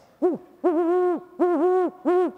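A large audience at a TEDx talk imitating owl hoots, four sustained group hoots with women slightly higher and men deeper, loud and close with brief gaps between them.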